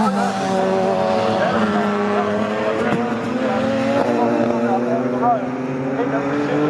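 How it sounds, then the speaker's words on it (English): BMW race cars at a championship race at Snetterton, engines droning loud with rising and falling pitch as tyres lock up and squeal under heavy braking, a commentator talking over the noise. "that's a big lock up there from Grant."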